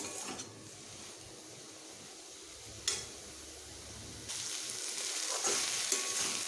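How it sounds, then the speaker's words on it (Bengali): Tender radish leaves frying under a lid in a pan give off a low, steady sizzle with a few clicks and knocks. The sizzle grows louder and brighter partway through. "শাকগুলো আমি এইভাবে ঢেকে ঢেকেই ভাজছি"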